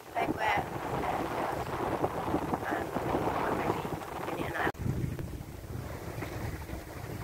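Wind and waves buffet a sailboat heading away from an anchorage near Bequia, a loud gusty rush with wind noise on the microphone, briefly cut off and then resuming.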